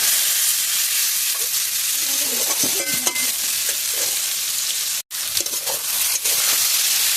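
Taro stolons sizzle in a hot pan, a steady loud frying hiss with occasional scrapes and stirring clatter throughout, broken by one very brief silent gap.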